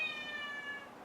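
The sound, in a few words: cat crying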